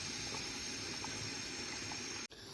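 Milk-based rice pudding (sütlaç) with wheat coming to a boil in a pot, a steady close bubbling and simmering texture running throughout before a brief cut near the end.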